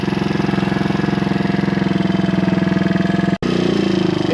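A Suzuki DR200 motorcycle fitted with a Nibbi carburetor runs steadily close by, an even rapid single-cylinder thump that cuts out for an instant and then picks right back up.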